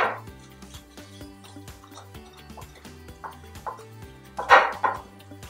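A spoon works sugar and butter together in a bowl, with a series of soft scraping taps and clinks, faint and uneven, ending in a couple of louder knocks.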